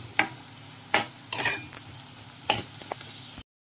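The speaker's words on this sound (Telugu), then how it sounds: "ఇప్పుడైతే నేను మష్రూమ్ కర్రీకి కూడా ఆనియన్స్ అన్నీ కట్ చేసేసుకుని ఫ్రై చేస్తున్నాను" Chopped onions frying for mushroom curry, with a few sharp clinks of a spoon against the pan over a faint, steady sizzle, close by with no talking.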